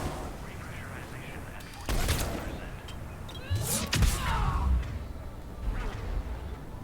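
Hornet SMG gunfire in Mass Effect 3 Legendary Edition, brief sharp bursts of shots standing out over a steady game background while people talk.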